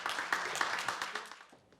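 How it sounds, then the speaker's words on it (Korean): An audience claps to welcome a city mayor onto the stage at a labour-society conference session, a soft, dense patter of many hands at a distance that fades out by the end. "박수로 환영해 주시면 감사하겠습니다"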